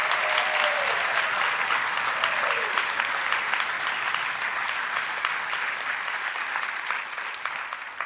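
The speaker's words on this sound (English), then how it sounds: "So a big round of applause for the rites of passage." An auditorium crowd at a university honors ceremony applauds steadily and loudly for several seconds, the clapping easing slightly toward the end.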